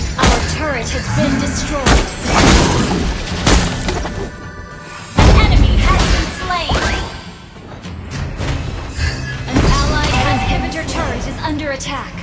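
In the Mobile Legends video game a turret is destroyed, with heavy booms, thuds and whooshes of battle effects bursting repeatedly amid game voice announcements.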